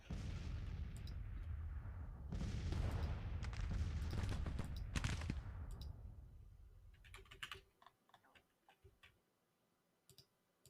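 Artillery fire in the Civil War strategy game Grand Tactician: a dense rolling rumble of distant cannon booms that fades out, followed by sparse faint clicks and ticks.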